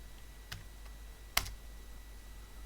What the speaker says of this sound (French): Je tape inverse de C.